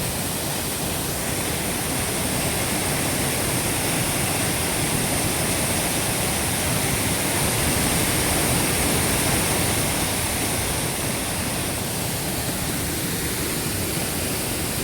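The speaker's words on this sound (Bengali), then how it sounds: "এই জল সরে নিচে পড়ে যাচ্ছে।" Waterfall at Lachung in North Sikkim, a steady, loud, close roar of rushing, falling water that fills the whole stretch without pause.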